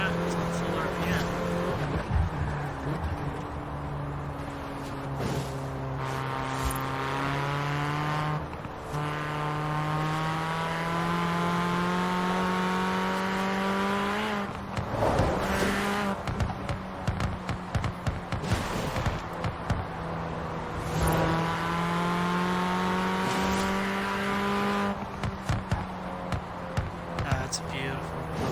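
Car engine in the racing game Forza Horizon 4 held near full revs, a loud rising and falling whine through the run, with talk over it.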